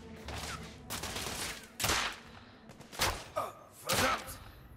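Gunfire in The Order 1886 video game, several sharp loud shots and bursts spaced irregularly over a background of combat noise, with no speech between them.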